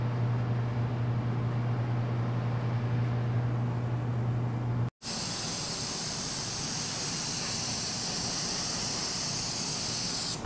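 A spray gun lays red transparent candy paint onto a car, making a steady close hiss of spray. A hum fills the first half, then after a brief break the spraying continues as a brighter, airier hiss, with no talk.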